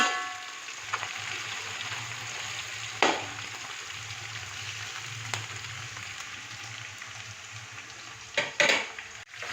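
Chopped onions fry in a pan toward golden brown, a steady close sizzle under occasional sharp clinks and scrapes of a spoon stirring against the pan, with no talking.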